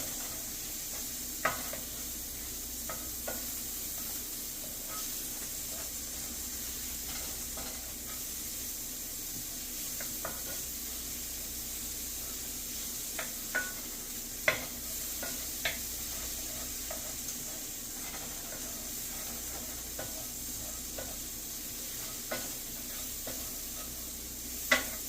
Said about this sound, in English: Tomatoes should help deglaze the pan some.